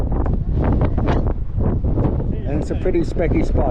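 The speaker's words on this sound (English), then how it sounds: "as you can probably hear on the mic, really, really windy" Heavy wind buffets the microphone with a constant low rumble beneath a person talking close by at a police checkpoint in the Himalayas.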